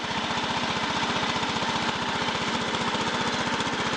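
A Bolens riding lawn tractor engine runs steadily up close, a loud, even rapid chugging throb with no pauses, slightly smoky after sitting through the winter.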